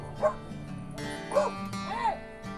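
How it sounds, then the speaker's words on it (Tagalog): A few short dog barks and yips at moderate distance, spaced out over a couple of seconds against a steady background hum. "Dogs, may dogs."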